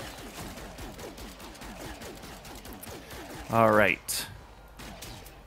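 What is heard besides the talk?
spaceship weapons firing in the video game No Man's Sky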